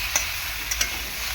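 A few green chillies sautéed in a pan for a small-fish curry, an even close sizzle with two or three brief sharp ticks of utensil contact, no voices.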